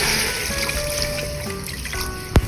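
Water poured into a cooking pot with a pork leg, pineapple chunks and their syrup, a steady close trickle running throughout, ending in a brief louder splash or knock.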